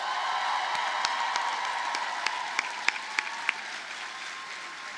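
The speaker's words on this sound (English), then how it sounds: "please join me in a round of rapturous applause and cheering" A large audience at the Eckerd College commencement in 2025 applauds in a steady, even roar of clapping, with a few louder individual claps and a faint whoop near the middle.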